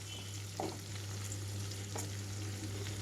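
Bajji chillies fry in a pan of oil, giving a soft, even sizzle throughout with a low steady hum underneath and a couple of faint clicks, heard without speech.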